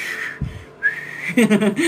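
A person whistling to call the wind on a hot day, a clear sustained note that breaks off and returns, followed by short warbling phrases, close and alone.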